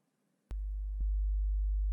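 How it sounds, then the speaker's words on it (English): Two steady 50 Hz sine tones, the first starting at half a second and the second joining at one second, combining into a louder, constant low hum with sharp clicks where each tone switches on and off. "I produced two 50 hertz sine wave and the amplitudes added up"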